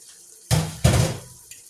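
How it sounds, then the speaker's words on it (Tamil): Tamarind water poured from a glass into a pot of fish curry, two short close splashing pours back to back, with no voices. "அந்த புளி தண்ணி ஒரு கிளாஸ் அதில் ஊற்றுறோம்."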